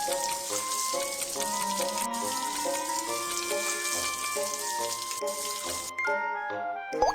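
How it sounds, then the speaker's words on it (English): Cartoon tap water runs steadily over a scalded arm for a first-aid rinse, a continuous splashing hiss with small drips, ending in a brief gurgle, with no speech. "Rinse with clean water to cool the wound."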